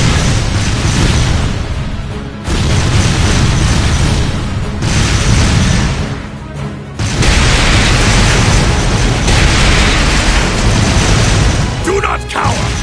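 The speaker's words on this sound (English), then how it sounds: "Fire a barrage to cover your retreat!" Artillery barrage in the video game Cold Steel 2, a near-continuous roar of loud explosions with brief dips between blasts, dense and booming, with voices faintly mixed in.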